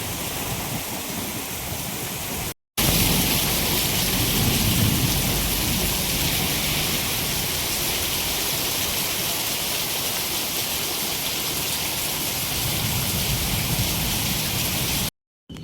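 Torrential monsoon rain during a storm pours in a loud, dense, continuous roar close by, broken only by two brief cuts, with no voices.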